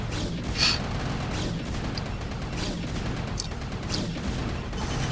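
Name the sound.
StarCraft scouts firing photon blasters, video game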